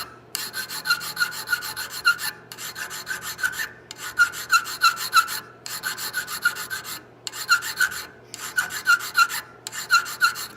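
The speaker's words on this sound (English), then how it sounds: "So I'm going to hit this area a little heavier, get a little more draft. With a 3-cornered file." Rhythmic rasping strokes of a three-cornered file on cast metal while fitting a lock plate, close and loud, in repeated bursts of several strokes separated by brief pauses.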